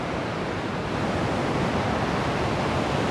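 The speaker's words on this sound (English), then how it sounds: "Look at the water coming down there. That is phenomenal." Cauldron Falls in Yorkshire pours in a dense, continuous broadband roar, loud and unbroken throughout with no voices.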